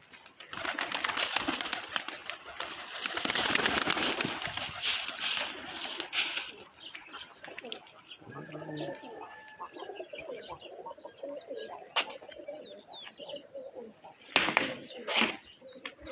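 Pigeons coo in low repeated calls on a rooftop, near and fairly faint, mixed with brief wing flaps and scattered splashing or rustling noises.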